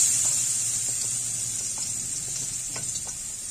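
Garlic frying in hot oil for a pork belly caldereta, a steady close sizzle and hiss with faint scattered pops, no voices.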